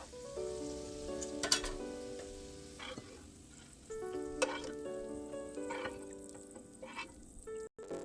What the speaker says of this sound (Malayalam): ഇപ്പോൾ ഞാൻ ഇട്ട ഈ കിസ്മസ് നല്ലതായിട്ട് ഫ്രൈ ആയിട്ടുണ്ട്.